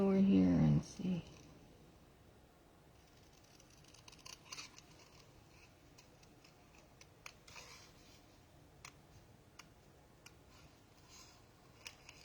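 Scissors snip out purple card paper for handmade cards in a series of faint, irregular clicks and snips, while a voice talks over the cutting.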